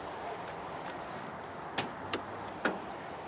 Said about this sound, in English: I'm going to pop the hood and let you guys see this beauty.